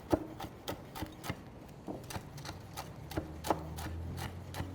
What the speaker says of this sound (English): And then the rest of this we can just mince up.